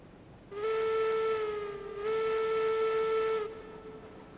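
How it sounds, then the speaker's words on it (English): A steam locomotive whistle in Railroads Online sounds two long, loud blasts, the first just under a second and a half and the second slightly longer, with a faint hiss between them and no talk. "Really nice whistle."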